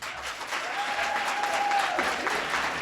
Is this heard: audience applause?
yes